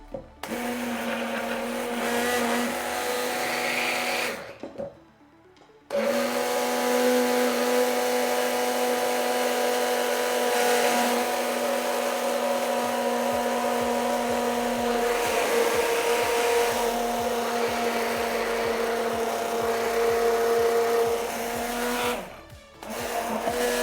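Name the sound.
blender mixing egg sauce while adding oil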